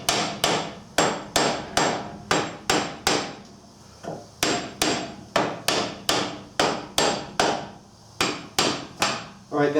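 Metal hammer blows loosen the rear wheel hub on an AWD Ford Edge, a steady series of loud, sharp, ringing strikes spaced about half a second apart, with one short pause partway through.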